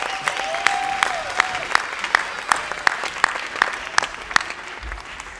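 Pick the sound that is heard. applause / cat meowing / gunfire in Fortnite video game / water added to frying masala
applause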